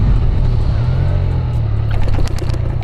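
A 2026 TVS Raider 125 motorcycle with dual disc brakes brakes hard from about 100 km/h: a loud, close road and engine roar holds steady, then drops away near the end with a few sharp transient clicks.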